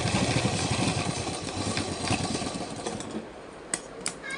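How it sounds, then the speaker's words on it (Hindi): A sewing machine stitches a palazzo, a close, steady motor whirr with rapid needle chatter that eases off near the end, followed by a couple of sharp clicks. "तो हम दाब सिलाई लगाएंगे।"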